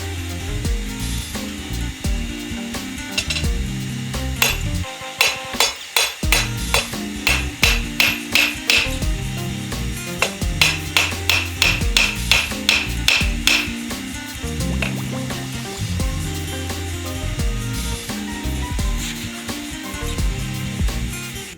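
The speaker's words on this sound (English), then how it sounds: "I hammered on it while it wasn't glowing at all." Metal, starting with a length of rebar that never reached a glow, is hammered on a homemade anvil, giving runs of sharp, ringing strikes in quick steady rhythm over a constant background hum, close and fairly loud.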